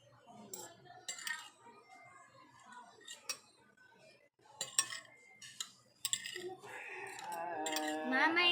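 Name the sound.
mixing pancit canton with spoon and fork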